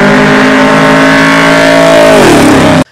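A car fitted with a Monster Transmission 700R4 automatic accelerates hard, its loud engine note climbing steadily before dropping through a firm gear change and cutting off abruptly.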